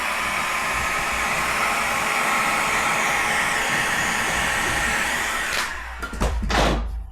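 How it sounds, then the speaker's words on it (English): A heat gun blows steadily and loudly while softening vinyl wrap on a dishwasher panel, a continuous airy roar that breaks up briefly near the end with a few handling bumps. "I'm going to use my heat gun right now. Softens up the vinyl and activates the glue a little bit more."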